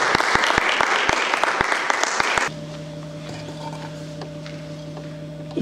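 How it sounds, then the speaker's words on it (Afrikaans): A crowd at a tomb unveiling claps for Mr Sabat in a burst of sharp, dense applause that stops abruptly partway through, leaving a quiet room with a low steady hum. "Kan ons meneer Sabat 'n lekker ander klapjie asseblief dames en here"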